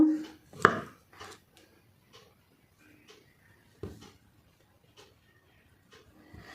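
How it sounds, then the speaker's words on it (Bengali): Peeled potatoes cut into pieces with a knife, a few sharp chopping knocks spread out, with a louder cluster near the start and faint taps after, no talking. "এবার আমি পিস করে নেব। এই দেখুন এইভাবে প্রথমে এভাবে পিস করব।"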